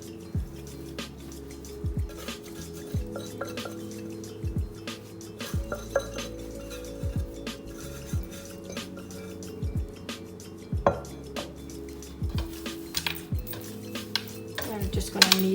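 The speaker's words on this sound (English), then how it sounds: "I'm just going to knead it for a few minutes." Cinnamon bun dough is lifted from a bowl and kneaded by hand, with soft squishing and slapping in a steady rhythm and occasional light clinks of the bowl, close and moderate in level.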